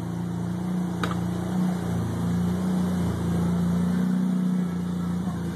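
A Mazda RX-7 engine idles at about 800 RPM with a low, even hum and slight rhythmic pulsing, close by, with a faint click near the start.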